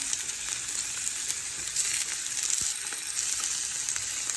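Ground beef hamburger frying in a pan with a little oil gives a steady bright sizzle with small crackles and an occasional scrape of stirring, close and moderate, with no talk.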